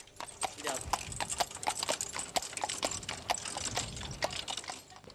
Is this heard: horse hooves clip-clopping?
yes